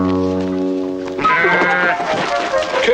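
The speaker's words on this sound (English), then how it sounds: "She's only a sheep." A single sheep gives a bleat after a short stretch of steady tonal sound, loud and close, with voices around it.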